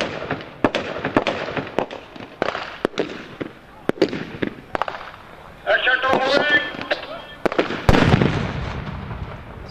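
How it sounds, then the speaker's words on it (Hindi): Repeated sharp explosive bangs and gunfire bursts from a police assault demonstration with hand grenades, some close and loud, others quicker and fainter, with a larger blast near the end, under talk. "दहशतगर्दों ने हैंड ग्रेनेड का इस्तेमाल भी शुरू कर दिया है"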